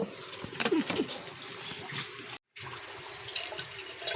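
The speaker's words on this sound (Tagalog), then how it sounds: "Lagyan ko muna ng tubig." Water pours from a tap or container into fresh buko (young coconut) juice, a steady close splashing trickle with a brief silent gap midway.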